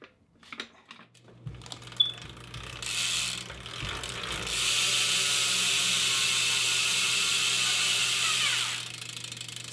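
Profile Racing cassette hub freewheel spinning, a steady, fine buzzing ratchet clicking that builds after a few scattered knocks, then holds loud and close before easing off near the end.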